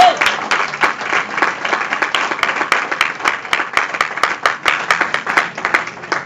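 Church congregation applauding in worship, a dense loud rhythmic clapping of many hands pulsing steadily throughout, with faint crowd voices underneath.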